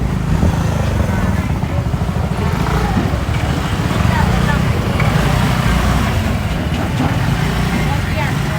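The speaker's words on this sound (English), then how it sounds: "I have some motorcycles trying to run me over here." Motorcycles pass close by in a busy Thai wet market street, their engine drone blending with steady crowd chatter and traffic noise throughout.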